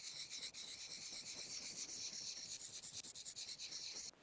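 A knife drawn against a sharpener outdoors on an alpine hunting trip makes a steady close scraping rasp. Quick repeated strokes come toward the end, and nobody speaks.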